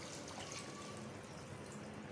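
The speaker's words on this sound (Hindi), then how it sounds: "अब इस टाइम पे पानी डाल दें जितना आप पानी रखना चाहते हैं" Water poured steadily into a pot of aloo chicken curry, a soft continuous rushing hiss that stays even and fairly quiet throughout with no voices.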